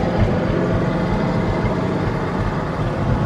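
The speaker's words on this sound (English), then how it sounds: "Ooh, listen to that cool muffler." A 1966 Ford F100 Stepside short-bed truck idling through its muffler, a steady low, throaty exhaust rumble heard close and alone.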